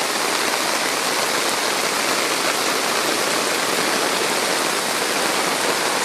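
Heavy rain pours steadily down a residential driveway on a wet Sunday, a dense, unbroken hiss of water that stays loud and even from start to finish with no voices.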